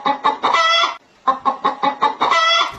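A pet bird mimics a rooster's crow: two bouts of close, loud, cock-a-doodle-like calls broken by a brief silent pause, each made of several quick rising and falling syllables.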